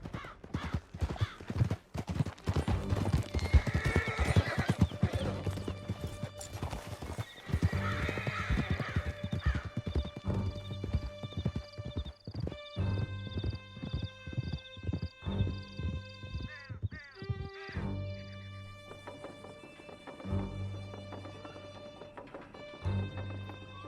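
Horses galloping in Red Dead Redemption 2, a steady clip-clop of hooves running throughout with occasional neighs and whinnies, fairly close and continuous under game sound.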